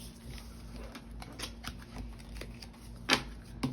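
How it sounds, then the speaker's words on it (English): Soft riffling and light slapping of tarot cards being shuffled, with a sharper snap near the end, quiet and close. "I'm just going to be shuffling all of them on camera today."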